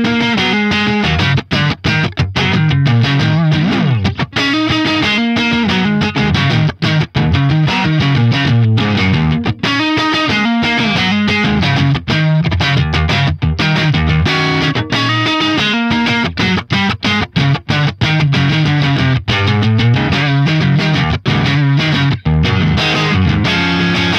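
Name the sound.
electric guitar through Neural DSP Fortin Cali Suite preset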